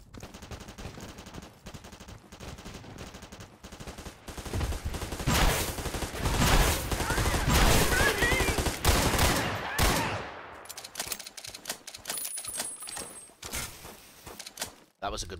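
A sustained gunfire barrage in a Doom mod, Ashes Afterglow, builds into a dense roar of rapid shots around the middle, then thins into scattered bursts and clicks.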